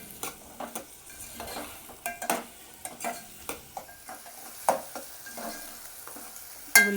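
Chopped onion pieces fry with a pinch of salt for a chicken curry, Andhra style, giving a steady low sizzle broken by regular scraping stirs of a spoon against the pan, close and alone with no talk.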